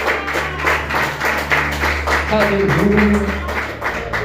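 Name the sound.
congregation applause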